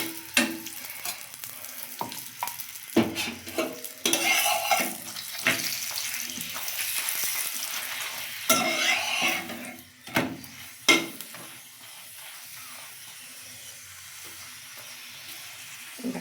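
Paratha cooking in ghee on a hot pan, a fluctuating sizzle with bursts of louder crackle and occasional clatter, close, fading to a quieter hiss near the end.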